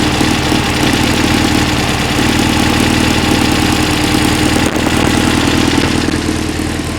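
A 1966 VW Beetle with a 1776cc engine runs continuously with an exhaust leak, giving a loud, close, rough idle with steady rapid knocking pulses and a brief dip partway through.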